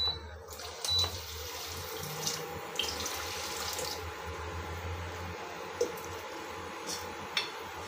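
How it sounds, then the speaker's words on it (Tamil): Water pours steadily into a pot of fenugreek for payasam, a continuous rushing splash with a few small clinks and drips along the way. "இப்போ ஒரு சொம்பு தண்ணி ஊற்றிடலாம்."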